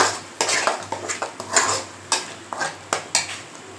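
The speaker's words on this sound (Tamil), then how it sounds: "போட்டு அதையும் நல்லா இந்த எண்ணெயில் மிக்ஸ் பண்ணுங்க." A spatula scrapes and clatters rhythmically against a pan as ground paste is stirred and sautéed in oil for a brinjal fish curry, sharp metallic strokes about twice per second over a faint sizzle.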